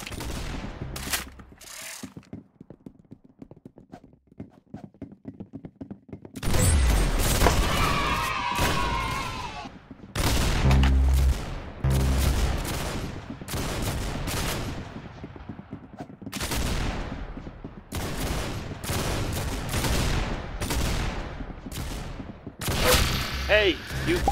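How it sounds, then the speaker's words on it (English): Rapid gunfire in the Roblox shooter Arsenal comes in dense bursts of sharp, loud shots that alternate with short quiet gaps, with game sounds and music mixed in around them. "The bullet exits the chamber with a sudden shout"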